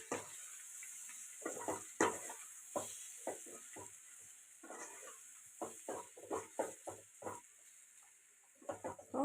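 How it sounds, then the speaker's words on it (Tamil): Potatoes frying in oil are stirred in a pan, with a faint steady sizzle under irregular scraping and tapping strokes close by, some louder than others. "சேர்த்துட்டு நல்லா கலக்கி விடலாம், மிக்ஸ் பண்ணலாம்"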